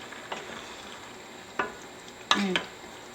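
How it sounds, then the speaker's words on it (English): A vegetable medley of squash, zucchini and broccoli stirred in a pan over heat, giving a faint sizzle with a few distinct scraping strokes of a utensil, one louder near the end. "So I'll just give this a big stir just to start mixing everything up together"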